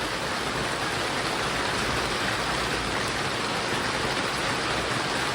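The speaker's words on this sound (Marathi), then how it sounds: "पावसानं लय जोर धरलेला आहे" Heavy monsoon rain pours down in a dense, unbroken roar, loud and constant throughout with no voices.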